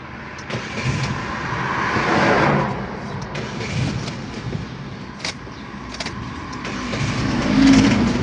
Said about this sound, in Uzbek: Mashinamiz yurdi.